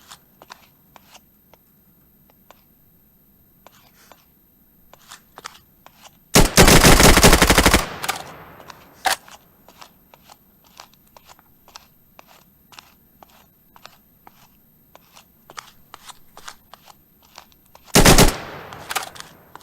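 Video game gun battle with rapid automatic gunfire bursts and scattered single shots, loud and close over quiet clicking and game ambience, no talking.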